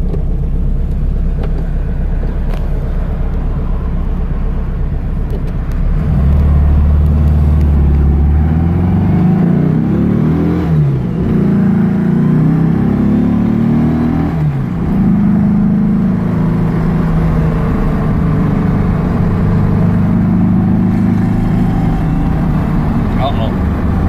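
A 1970 Baja Bug with a 2276cc engine revs and drives, its loud close engine drone rising and falling steadily throughout with rumbling road noise.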